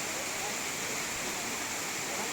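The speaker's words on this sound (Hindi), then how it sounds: "वाटरफॉल से आया हुआ पानी डैम में जमा होकर उसके सामने बनाए हुए स्टेयर से कुछ इस तरह से गिरता है" Water from a waterfall pours down the stone steps of Bhushi Dam near Lonavala, Pune, as a loud, steady, unbroken rush with no pauses.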